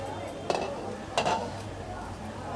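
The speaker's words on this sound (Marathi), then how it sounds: "2 मिनिटं झाली आहेत, झाकण काढूया आपण।" A pot lid lifted off a pot of freshly steamed tomato rice, two brief metallic clinks against a quiet kitchen background, with someone speaking around them.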